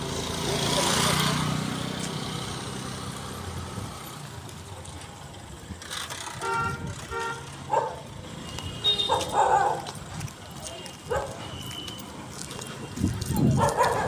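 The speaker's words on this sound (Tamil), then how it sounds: "நான் வீடியோ எடுக்கிறத பார்த்து நாய் ரொம்ப துரத்த ஆரம்பிச்சிருச்சு" Stray dogs along a street bark in several separate bursts, some close and loud, others farther off, over steady outdoor background noise.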